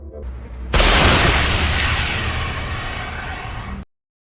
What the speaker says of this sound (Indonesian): maka Nao pun menembakkan pistol suar untuk memberitahukan lokasi